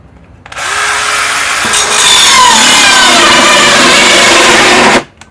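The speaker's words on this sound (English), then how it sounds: "So I'll give an example real quick of cutting wood." A Black & Decker Matrix drill fitted with its saw attachment cuts through wood, starting with a faint click, then a loud, steady rasping buzz for about four seconds before stopping abruptly, heard close and alone.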